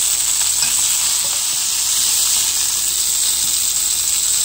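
Onions and gola kebab fry on a hot sizzler plate, giving off a loud, continuous hiss and crackle of oil and steam that stays steady from start to finish, with no talking.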